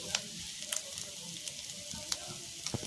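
Sliced onions fry in a pan with a soft, steady sizzle and occasional light clicks and taps from stirring, heard close and fairly quiet without talking.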